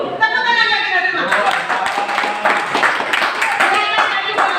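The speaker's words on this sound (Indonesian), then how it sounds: "Tepuk tangan bagi kita semua" Participants at a village anti-smoking presentation session in Aceh Barat break into lively applause, a dense stretch of hand claps after a short spoken lead-in, with voices mixed into the clapping.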